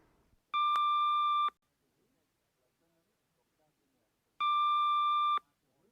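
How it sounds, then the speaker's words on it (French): Two identical electronic tone bursts, each about a second long, separated by a few seconds of near silence, like a phone ringing. "La sonnerie du portable de l'inspecteur Gaudin interrompt le préfet"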